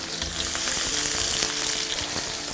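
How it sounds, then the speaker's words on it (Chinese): Ginger, garlic, scallion and chili sizzle in hot rapeseed oil in a wok, a continuous bright crackling fry heard close and alone. "油热以后下入姜、蒜、葱，还有这个小米椒，"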